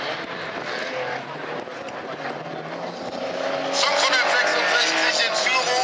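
Stock car race start at the Heide Cup, engine roar building and growing louder toward the end, mixed with crowd and commentary-like talk throughout.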